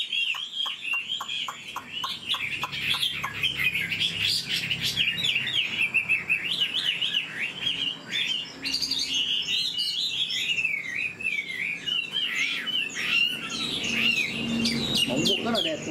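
An old, wild-caught Chinese hwamei songbird sings a long, loud, unbroken stream of rapid, varied whistles, trills and sweeping phrases, close up with faint background noise.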